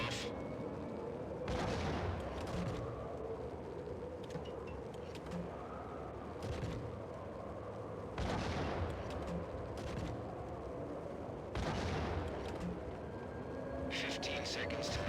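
Gunshots ring out in a video game in several spaced bursts across the stretch, moderately loud over a steady background, with a voice talking between them.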